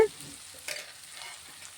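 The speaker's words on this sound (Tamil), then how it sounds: "தக்காளியை ஓரளவுக்கு நல்லா வதக்கி எடுத்துடலாங்க" Golden-brown onions and tomatoes sauté in a pan, giving a soft, fairly quiet sizzle with a faint scrape of stirring partway through.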